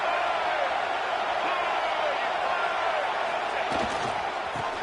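Stadium crowd in the college football video game NCAA 25, a steady roaring cheer from a large distant crowd, with a few thumps near the end.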